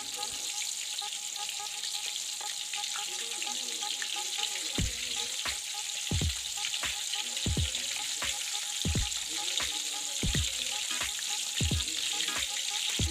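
Restaurant-style chicken kebabs fry in a pan with a steady, close sizzle throughout. From about midway, repeated soft knocks and clatter sound as the pieces are turned.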